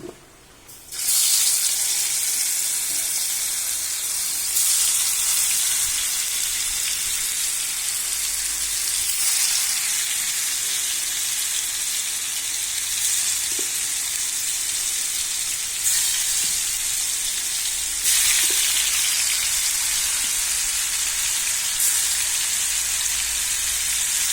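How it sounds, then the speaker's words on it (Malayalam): Fish pieces frying in hot oil in a pan for a Kerala fish curry, giving a steady, loud, continuous hiss and sizzle with no talk. "കുറച്ചും കൂടി വറുക്കാം."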